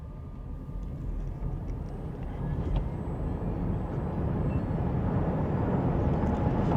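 A car in race drive mode accelerates hard from standstill to 100, a low engine and road roar that grows steadily louder and denser over several seconds, with no voices.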